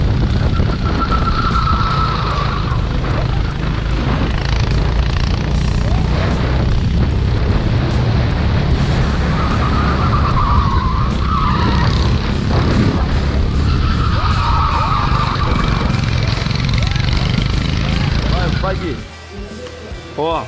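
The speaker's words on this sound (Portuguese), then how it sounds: "partiu corrida de kart" Go-karts race and skid on a track. A loud, constant engine drone runs throughout, with recurring tire squeals and voices over the noise.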